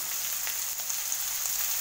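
Onion sautéing in a pan for a papaya thoran gives a continuous soft sizzle with faint crackles, steady and close, with no talking.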